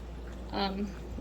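Sink water is poured briefly into a canning jar packed with green beans: one short, soft trickle lasting under half a second against a faint background hum.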